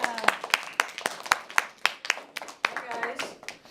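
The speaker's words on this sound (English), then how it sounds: "Let's give a round of applause for Deborah." A small audience of children and adults at an elementary school author event claps for a guest, a brisk series of sharp individual hand claps, fairly close and uneven.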